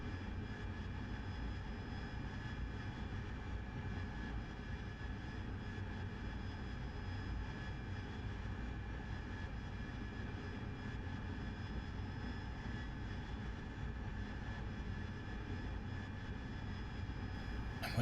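An AV-8B Harrier in DCS World on a slow approach with its nozzles at 60 degrees: a constant jet-engine roar and whine, steady and unbroken, with no voices.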